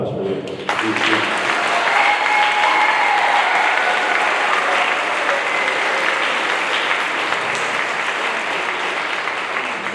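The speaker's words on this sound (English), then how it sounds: "So just one more big round of applause for these students." An audience at a middle school spring band concert applauds the students: dense, loud, sustained clapping that starts abruptly and holds steady, with a faint crowd murmur underneath.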